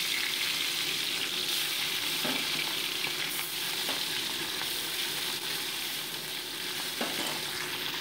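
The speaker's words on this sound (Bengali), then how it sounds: "কড়াইতে সর্ষের তেল গরম বসিয়ে একে একে মাছগুলোকে আমি ভেজে নিচ্ছি" Bata fish frying in hot mustard oil in a kadai, a steady close sizzle and crackle with occasional soft clinks as pieces are turned, moderately quiet and continuous, no voices.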